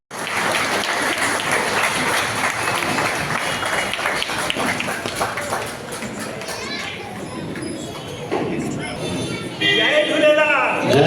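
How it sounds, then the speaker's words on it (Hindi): An audience claps in welcome at a Sindhi community gathering in Ujjain, with steady, dense applause running throughout, loud and close, while voices and cheering mix in toward the end. "सब ताली बजाए करे इन्हें स्वागत करना।"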